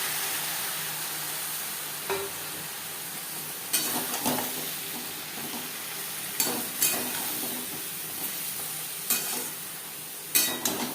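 Ridge gourd frying in a pan, stirred now and then: a constant sizzle under sharp scrapes and clinks of the spoon against the pan, close up.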